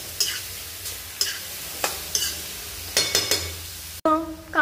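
Onion and garlic fry in a pan, a steady sizzle broken by regular scraping stirs about every half second to second, close and clear; a brief tonal clank near the end.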